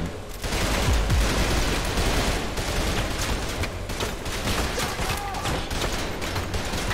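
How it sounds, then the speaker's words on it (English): Dense rapid gunfire rattles continuously in the video game Trepang2, an enemy minigun firing in a loud sustained stream with scattered impacts, steady for the whole stretch. "must be another guy with a minigun"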